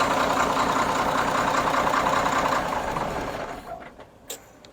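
A rollback truck's engine idles with a steady, loud mechanical drone, then winds down and fades out as it is shut off, leaving near silence with a faint knock.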